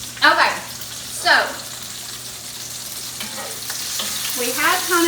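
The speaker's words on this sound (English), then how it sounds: "we have kind of our sausage pretty good and seared." Sausage sears in a hot pan with a steady, crackling sizzle throughout, while a voice briefly cuts in now and then over the frying.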